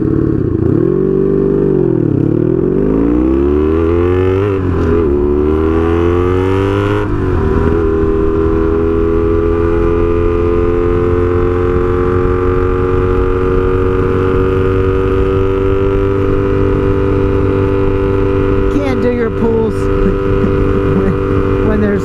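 A straight-piped Honda Magna 750 motorcycle rides along after the clutch is let out, its loud, close engine rising and falling through a few revs, then settling into a steady cruising drone with wind noise.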